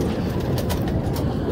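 Pigeons coo close by in a brief burst of soft, throaty calls over a dense, rumbling background.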